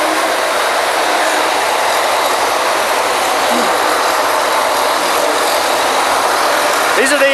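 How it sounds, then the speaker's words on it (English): Diesel engines on a 2009 Kelly drilling rig run as a steady, loud, broadband roar that continues throughout without pause. "The diesel engines."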